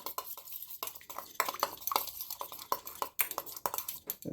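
Gelatin being stirred into a Bavarian cream mixture in a bowl, with a run of close, quick clinks and scrapes from the utensil against the dish, no talking.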